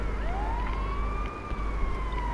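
Ambulance and police sirens in a video game wail steadily, a loud rising-and-falling electronic tone over a low engine rumble.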